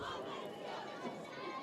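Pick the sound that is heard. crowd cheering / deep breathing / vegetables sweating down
crowd cheering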